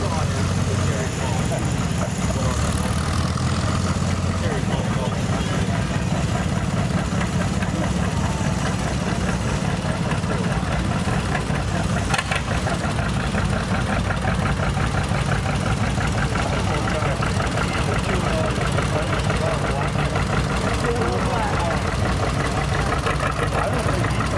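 An antique tractor idles at a county antique power association tractor show parade, its engine putt-putting in a steady low rumble that runs unbroken throughout, with voices talking over it.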